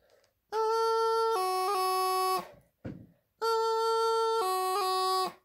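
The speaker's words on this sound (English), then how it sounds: "It's a half F doubling because we're coming from high A." Practice chanter playing a half F doubling from high A: a bright, reedy sustained tone with quick grace-note changes, played twice with a short pause and breath noise between, no talking.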